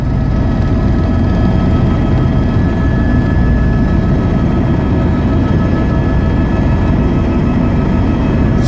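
Helicopter flying over the Kumbh gathering at Sangam, a steady loud rotor and engine drone with dense low rumble, unbroken and close throughout.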